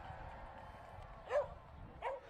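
A dog at a racing event gives two short, muffled barks about a second apart, set against a low crowd murmur and somewhat distant.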